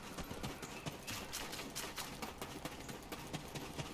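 Horse hooves clip-clop steadily in the Black Desert video game, a quick, even run of light thuds repeating throughout at close range with no talking.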